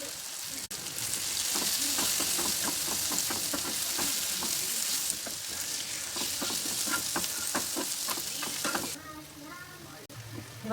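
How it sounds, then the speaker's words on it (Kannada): Ginger garlic paste and spices sizzle and fry in hot oil for egg rice, a steady loud crackling hiss with scattered spoon-stirring clinks, quieting near the end. "ಶುಂಠಿ ಬೆಳ್ಳುಳ್ಳಿ ಹಸಿ ವಾಸನೆ ಹೋಗೋವರೆಗೂ ಫ್ರೈ ಮಾಡಬೇಕು."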